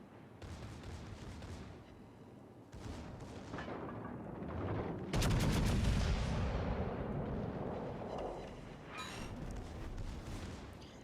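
Secondary battery guns on a Veneto battleship pound an enemy ship in a naval combat game, firing in a dense, rolling barrage of heavy booms and cracks that stays loud and continuous throughout.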